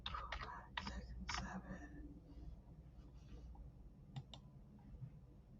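A computer keyboard being typed on to enter a zip code: a few quick bursts of soft, close clicking keystrokes, then sparse single taps in a quiet room.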